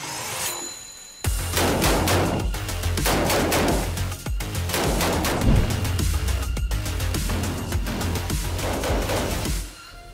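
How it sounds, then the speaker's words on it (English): A gun is fired by a shooter wearing a tailored two-button Italian-style suit. A dense, rapid burst of loud, close shots runs continuously for several seconds with no talk. "I had no issues shooting that gun."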